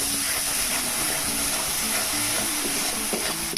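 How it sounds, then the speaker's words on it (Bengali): Figs frying in a pan of sautéed spice masala give a steady, close sizzle and hiss that run continuously, with no talking. "কষানো মশলার মধ্যে ডুমুরগুলো দিয়ে দেওয়া হলো।"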